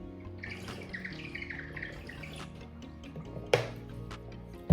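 Someone drinks water from a bottle, with squeaky, whistling sucking noises and watery gurgles, close and fairly quiet, ending in a sharper knock.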